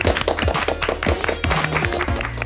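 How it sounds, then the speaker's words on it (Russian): A studio audience applauds on a Russian TV makeover show. Dense, loud clapping with rhythmic music runs throughout. "Под аплодисменты."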